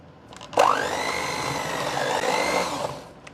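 A kitchen stand mixer whirs steadily at low speed while mixing raisins into cookie dough, switching on abruptly and humming evenly for a few seconds before stopping.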